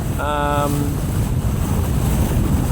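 Sailboat Akula motor sailing on open water, its engine drone and rushing wind noise filling the background steadily, with a brief tonal whistle or horn-like sound near the start.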